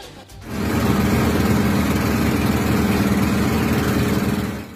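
Motorboat engines idle steadily, a loud continuous low rumbling drone that holds level for several seconds with no talk over it.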